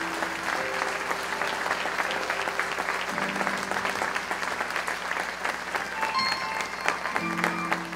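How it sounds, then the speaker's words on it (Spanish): A church congregation applauds during a Spanish-language sermon: dense, steady clapping from many hands fills the room at an even loudness for the whole stretch, with no voice rising above it. "¿Cuánto le pueden dar un aplauso al Señor?"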